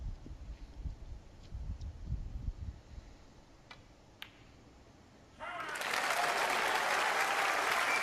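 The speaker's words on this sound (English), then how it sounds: "the crowd showing their appreciation" Snooker crowd at the 2014 Masters bursts into loud, sustained applause after a pot, rising suddenly from a quiet hall with a few faint clicks and shuffles.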